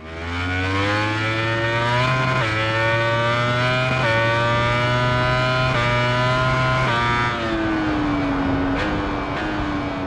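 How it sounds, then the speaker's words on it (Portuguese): A racing motorcycle engine in the video game MotoGP 21 revs loud and close without pause, its pitch climbing and then dropping back in a series of steps as it shifts up through the gears, with no voices over it. "Vamos ouvir um pouco o barulho do motor e perceba que conforme o barulho do motor aumenta,"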